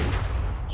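A single gunshot in The Walking Dead video game lands as a heavy, booming report at the start, its low rumble trailing off over the rest of the brief moment.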